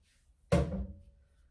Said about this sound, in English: I'm going to pour the milk.